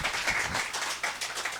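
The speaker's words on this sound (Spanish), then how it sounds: "Dale palmas a Jesús como se le merece a Él." A church congregation claps for Jesus during a spiritual festival service in Kiñacc, Huanta, a dense burst of many hands clapping together at once, steady and fairly loud, with no voices heard.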